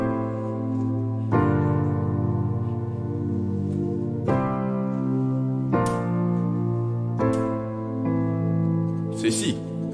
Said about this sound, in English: I've turned this harsh string sound to sound nicer.